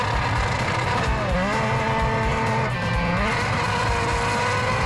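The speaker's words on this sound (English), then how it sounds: "Formula One ace Nick Heidfeld took his V8-engined 220-mile-an-hour racing car away from its usual track and onto the treacherous ice" A V8-engined Formula One car driven by Nick Heidfeld slides across the frozen lake ice at St. Moritz. The engine roars loudly and steadily, with wavering pitch as the throttle shifts and a hiss of skidding under it.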